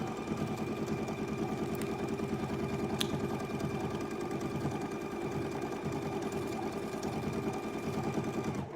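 A sewing machine stitching steadily, with a fast even mechanical chatter and motor hum that runs close and continuous without a break, no talking heard.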